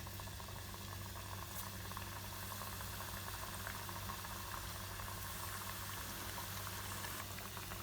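Coconut biscuit dough, kaayi biscuit, drops into heated oil in a pan on the stove, producing a continuous bubbling sizzle with an even hiss and a low hum beneath, no speech.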